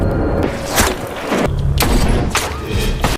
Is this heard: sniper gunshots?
yes